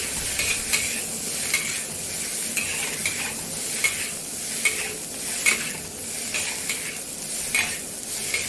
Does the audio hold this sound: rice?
yes